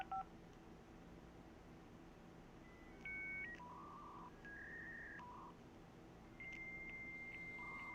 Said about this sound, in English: This is what it sounds like dialing into, like, America Online or one of the dial-up internet services back in the day.